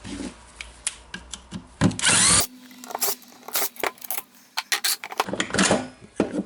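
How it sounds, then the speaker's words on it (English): Screws being unscrewed from a Makita BSS501/DSS501 cordless circular saw during a brush holder repair: close, dry clicks and scrapes of a screwdriver with one short burst of harsher rasping. "I will unscrew the 3 screws here"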